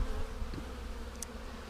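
Honey bees robbing a hive buzz in a faint, steady hum close by, with a few louder individual passes standing out briefly over the drone.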